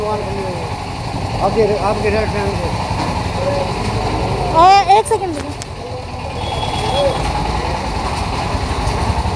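Idling engines rumble steadily in a jammed Hisar market street, a low continuous drone with a brief horn-like blare midway, while someone talks over the traffic.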